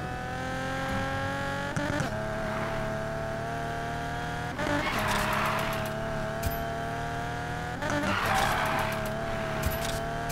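A Nissan 350Z drifts in the Need for Speed Payback video game, its engine droning steadily while tyres squeal in long bursts, loud and continuous with brief gear-shift dips.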